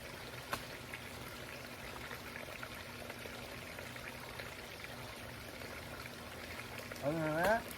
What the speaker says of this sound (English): It's just a sub pump, nothing fancy.